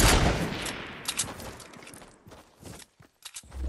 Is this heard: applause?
no